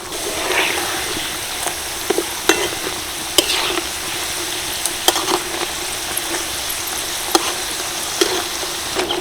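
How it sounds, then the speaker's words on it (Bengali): Potatoes frying together in hot oil for a crispy snack give off a continuous close sizzle. Sharp pops and crackles break through it every second or so, and no one talks. "সবগুলো একসাথে দিয়ে দিয়েছি আস্তে আস্তেই ভেজে নেবো"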